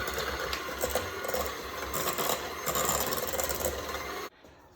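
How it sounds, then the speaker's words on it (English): An electric stand mixer whirs steadily while beating chocolate chip cookie dough after an egg has gone in, a continuous motor drone with a faint rhythmic churn that cuts off abruptly near the end. "then I can speed up the mixer"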